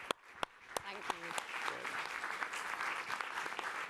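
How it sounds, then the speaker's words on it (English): Audience applause at a panel discussion event, beginning with a few scattered individual claps that swell into steady, fairly close clapping from a seated crowd. "Please give her a very big round of applause."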